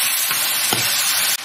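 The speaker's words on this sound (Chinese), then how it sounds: "把猪肉和它们迅速的翻炒在一起" Pork stir-fried in a wok with scallion, ginger, garlic, star anise and sweet bean sauce, a steady loud sizzle with a brief scraping stir near the middle and no voices.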